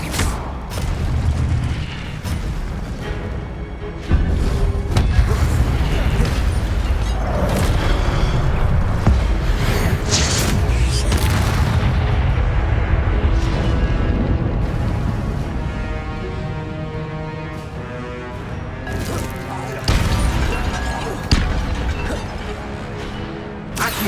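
Incendio fire spells bursting during Hogwarts Legacy combat against guards: loud, dense rumbling blasts and crackling impacts, with sharp explosive hits around the start and again later, over busy game sounds and music.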